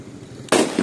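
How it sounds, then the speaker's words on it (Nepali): A firecracker bomb bursts with a single sharp, loud bang after a half-second of quiet outdoor ambience, followed by a brief crackling tail. "यहाँ अब नेपाललाई चाहिँ यसरी बम पड्काइन्छ क्या"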